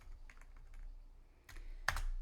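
Computer keyboard typing, a short run of soft, close keystrokes with a sharper tap near the end while renaming a sheet in Tableau.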